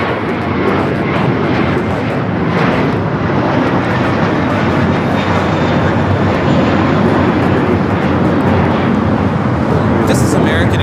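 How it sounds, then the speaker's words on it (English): An American Airlines Airbus A321 jet takes off at LAX with a loud, sustained roar of engine noise filling the whole stretch, while voices talk over it. "This is American Airlines 238 taking off to JFK on the A321"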